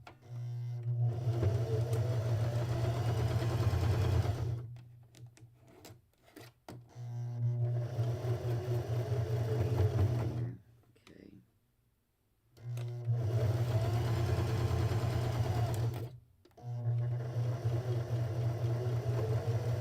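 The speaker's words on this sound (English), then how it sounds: "Alright, so let me re-sew this." Sewing machine stitching a quilt block, running in long steady bursts with a low motor hum and rapid needle chatter, separated by short pauses.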